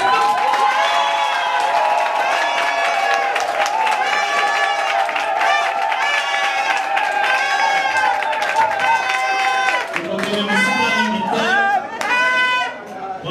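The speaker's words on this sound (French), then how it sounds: "On va l'applaudir maintenant." A crowd at a tribute event claps and cheers loudly and continuously, with many voices shouting and singing over the applause, growing more chaotic toward the end.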